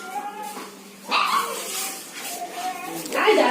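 Dogs at an animal shelter barking and whimpering, several short barks and yips in irregular bursts, moderately close, with noisy room sound throughout.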